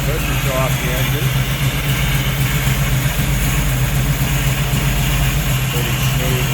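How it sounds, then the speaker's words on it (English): The 454 V8 in a 1968 Chevrolet Camaro with a four-speed manual idles smoothly with a steady, even low rumble that stays constant throughout, close and loud. "Pretty smooth running 454 underneath there."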